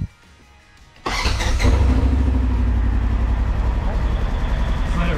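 A Polaris Ranger utility vehicle engine starts after a quiet moment, then settles into a loud, steady, close idle drone that holds without change.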